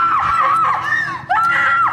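In a Japanese drama, a girl screams in fear, loud and high-pitched, holding for nearly two seconds with one brief break before the cry rises again.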